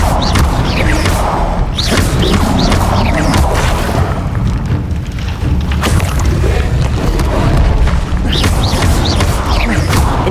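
The Incendio fire spell in the video game Hogwarts Legacy erupts as a loud, roaring whoosh of flame with booming bursts, continuous and close throughout the clip.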